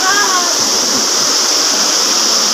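Lambingan Falls waterfall pouring as a steady, loud broadband roar with no letup, heard up close and alone.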